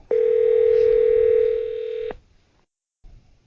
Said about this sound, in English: But we're going to give him a phone call.